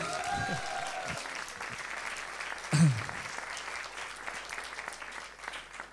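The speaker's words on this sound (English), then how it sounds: "Please give them a round of applause." Audience applause at a 20th anniversary gathering, a steady wash of many hands clapping, fairly faint and distant throughout, with one brief louder knock near the middle.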